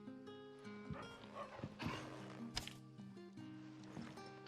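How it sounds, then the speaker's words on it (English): A starving dog in the video game Final Fantasy XVI gives faint whimpers and small yips beneath sustained background music, quiet and intermittent rather than a clear bark. "Dude, the dog looks starving."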